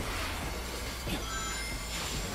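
A train rumbles past in the video game Shadow Generations, a steady broadband roar with metallic wheel squeal, close and loud throughout with no talk over it.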